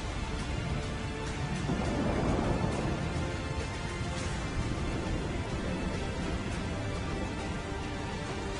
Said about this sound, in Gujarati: શહેરમાં પવન સાથે વરસાદ પડતા જ વાતાવરણમાં પલટો આવ્યો છે